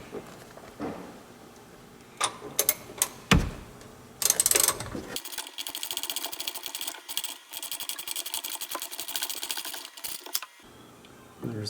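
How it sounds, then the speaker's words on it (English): A 10mm socket wrench loosens bolts on a 2016 Yamaha VXR personal watercraft, giving sharp metallic clicks and taps followed by a long run of rapid, close ratcheting, with no talk. "using a 10mm, we're going to start taking off the first 4 bolts."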